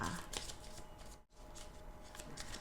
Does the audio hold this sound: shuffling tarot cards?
yes